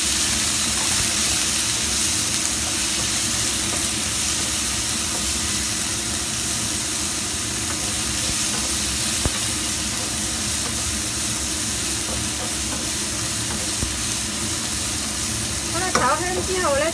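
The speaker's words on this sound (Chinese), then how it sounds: "爆香料头之后咧，就加入啲虾干落去炒香佢啦" Dried shrimp stir-fry in a wok with fried aromatics, giving a steady, fairly loud sizzle with stirring throughout. A low hum runs underneath, and there is no clear speech.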